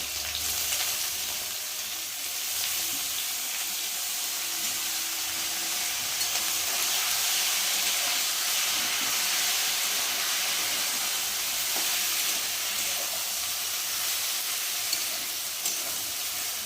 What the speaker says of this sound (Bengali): ওইদিকে নারকেলটা ভালো করে মজুক